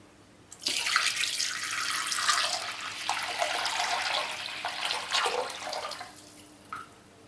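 About a litre of water is poured into a pot of mashed dal for tomato rasam. A continuous, close gushing splash starts abruptly and runs for roughly six seconds before tapering off.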